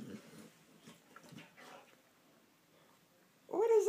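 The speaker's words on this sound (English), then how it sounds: "The yoga dog. He's doing his yoga." A dog makes soft whimpering, squealing sounds while stretching in a home, a louder whiny cry rising near the end after quiet murmured talk and faint movement.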